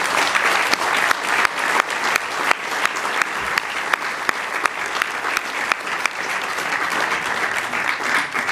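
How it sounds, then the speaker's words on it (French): An audience at a political programme presentation in Vence applauds loudly and steadily, a sustained, even roar of many hands clapping with no pause and no speech. "Je vous demande de l'applaudir très fort."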